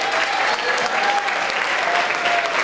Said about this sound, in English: Let's have a round of applause for Mrs.